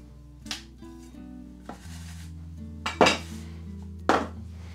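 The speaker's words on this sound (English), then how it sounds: "And do some washing up" Dishes and cutlery clatter during washing up in a home kitchen, with a handful of sharp, close clinks and knocks over a low running hum, no voices.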